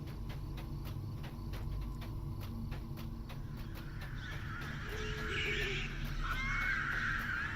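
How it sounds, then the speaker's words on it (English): Birds calling in a Lord of the Rings Online game world, harsh cawing and honking cries rising over a steady low ambient drone, growing louder and busier toward the end. "Ooh, listen to them birds."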